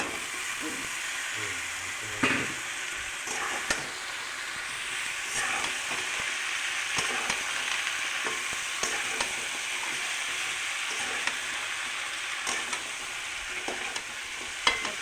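Mixed vegetables frying and being stirred in oil released from spices while cooking Bengali panchan, a steady close sizzle with scraping stirs throughout and no talk.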